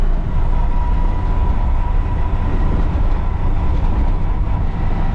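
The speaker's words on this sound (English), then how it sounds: "Third gear is really noisy." Noisy drone of a car engine held in third gear, a steady loud rumble with rough mechanical roar and no let-up over several seconds.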